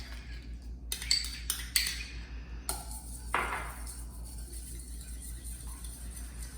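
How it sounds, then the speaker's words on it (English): A spoon clinks against a bowl a few times, sharp and close, as sour cream is stirred into broth for beef stroganoff noodle soup, followed by quieter scraping over a steady low background hum. "I'm stirring my sour cream into the bowl"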